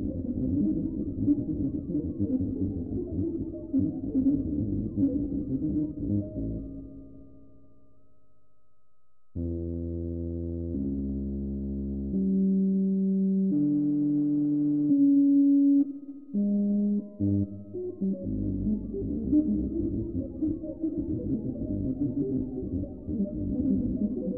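An ARP 2600 synthesizer runs its sample-and-hold from the noise generator, producing stepped, randomly changing tones that jump in blocky pitches in the middle, framed by denser synth textures before and after; loud, steady, and free of voices.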